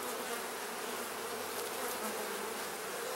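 Honeybees buzzing inside an open brood box during a hive split, a dense, steady close-up hum of many wings that fills the whole stretch without pause.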